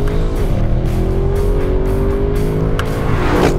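A 2021 Audi RS6 on a race track gives a loud, close engine drone, its pitch climbing and falling steadily as it accelerates and shifts, with faint tire noise and no talking.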